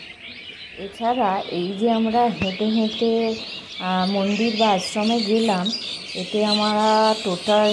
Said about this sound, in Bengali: মানে পাখির ডাক এত সুন্দর লাগছে